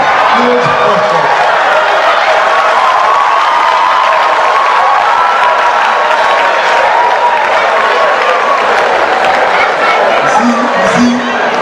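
A comedy show audience claps and cheers in a loud, continuous roar for over ten seconds, with brief voices surfacing near the start and end.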